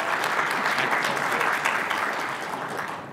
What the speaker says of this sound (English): clap for these people